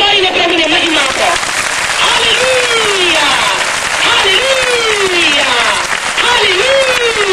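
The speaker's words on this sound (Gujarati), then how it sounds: "તાળી પાડીને પ્રભુને મહિમા આપો." A church congregation claps together in praise, sustained applause filling the room while a preacher's voice rises over it with repeated exclamations.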